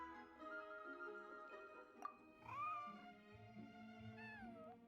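A white, fluffy cat in the Genshin Impact video game lets out several drawn-out, whiny meows over soft background music.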